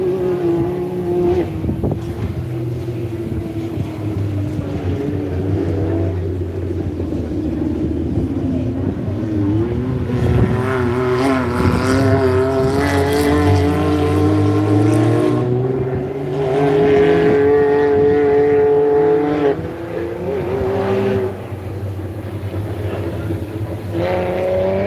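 Race cars battle on a circuit in the Loveday Arena, their engines roaring and shifting pitch continuously close by, with loud revving and gear changes under commentary.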